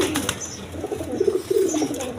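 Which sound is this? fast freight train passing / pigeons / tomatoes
pigeons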